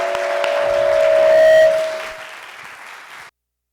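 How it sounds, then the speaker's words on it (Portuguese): Applause at an academic event marking ten years of a quota law, honouring a consortium team; a steady clapping wash swells toward the middle under a sustained tonal hum, then fades and stops abruptly. "uma salva de palmas para todo mundo que trabalhou no consórcio"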